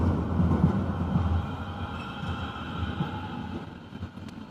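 Passenger train travelling to Frankfurt, heard from inside as a steady low rumble and rolling drone that stays constant, with faint higher tones and no talk.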